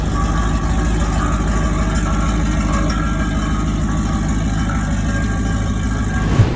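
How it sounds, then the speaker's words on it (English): A Ford Bronco engine runs straight piped with no muffler, a loud, deep, continuous rumbling idle heard up close and steady throughout, ending in a brief thump. "my Bronco decided it wanted to get straight piped."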